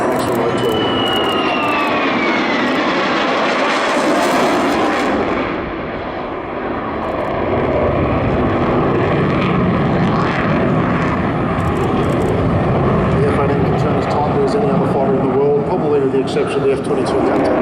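Military jet aircraft, including an F-22, flying aerobatic manoeuvres such as loops at a coastal airshow, a loud continuous engine roar rising and falling across the whole stretch under a commentator's talk.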